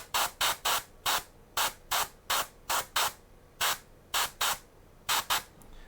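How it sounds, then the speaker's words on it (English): Short bursts of paint sprayed onto the bottom of a miniature figure's dress with a fine sprayer, about fifteen quick hissing puffs in an uneven rhythm, close and quiet with nobody speaking. "I'm going to try spraying at the bottom of this dress."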